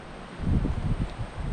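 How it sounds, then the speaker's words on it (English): Wind buffets the microphone in low, irregular rumbling gusts, close and blustery, with no other sounds standing out. "Sorry if the wind's really blowy."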